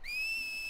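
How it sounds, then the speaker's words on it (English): A single steady, high whistle from a character in the video game Final Fantasy X, a clean sustained tone lasting under a second, fairly faint with no talking. "Hey, she whistled."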